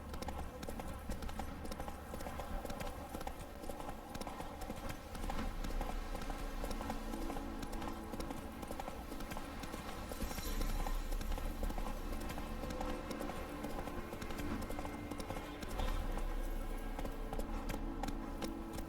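Horse hooves gallop in a steady, driving clip-clop rhythm in The Witcher 3, loud and continuous for the whole stretch over game music and ambience.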